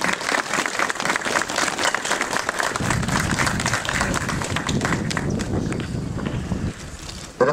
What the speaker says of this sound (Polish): Bardzo im dziękuję i również poproszę o brawa dla nich.